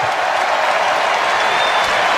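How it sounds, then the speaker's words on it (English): The Madison Square Garden basketball crowd at a Bucks versus Knicks NBA game applauds, a dense, steady roar of clapping from a large arena audience. "a round of applause from the Garden crowd"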